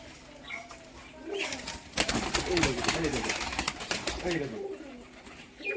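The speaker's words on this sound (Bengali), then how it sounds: "মাদি পায়রাটা" Pigeons coo softly in a repeated, rolling rhythm close by, with a female pigeon among them, occasional wing flaps and voices talking in the background.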